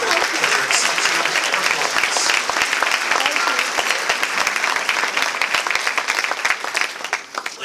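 A crowd gives sustained, dense applause after an African folklore performance at a Black History Month observance at Fort Jackson, with many hands clapping steadily throughout and voices faintly mixed in.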